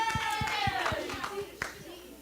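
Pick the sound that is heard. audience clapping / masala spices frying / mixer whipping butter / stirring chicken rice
audience clapping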